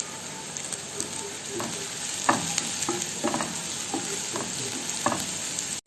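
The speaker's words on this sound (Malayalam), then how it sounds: "ഇത് നന്നായിട്ട് വഴറ്റിയെടുക്കണം. കുറച്ച് കറിവേപ്പില ഇട്ട് കൊടുക്കാം." Onions with curry leaves and salt sautéing in a pan for Kerala squid roast, giving a continuous bright sizzle broken by repeated spatula scrapes and clicks, close up and moderately loud with no talking.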